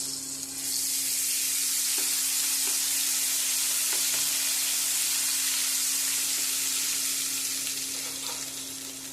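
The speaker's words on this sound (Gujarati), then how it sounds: "હવે આપણે આદુ લસણ મરચાંની પેસ્ટ નાખી દઈશું." Ginger, garlic and chili paste sizzling in a pan for a stuffed spiny gourd curry, a loud continuous hiss that swells quickly and holds steady, close and alone.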